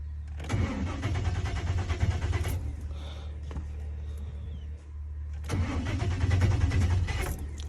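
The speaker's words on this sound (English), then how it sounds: "Let's see if the truck would hesitate to turn on or not" A 1996-2002 GM 5.7 Vortec pickup truck engine, fitted with a rotorless distributor for an LS coil conversion, cranks and catches twice, each start a loud rumbling surge, separated by a quieter pause with faint clicks.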